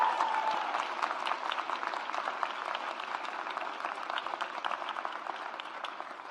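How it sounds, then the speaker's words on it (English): An audience at a 2023 Asian and Pacific Islander graduation celebration for doctoral students gives a dense, sustained round of applause, moderately distant and slowly tapering. "Let's give them another round of applause."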